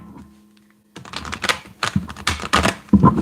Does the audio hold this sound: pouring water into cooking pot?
no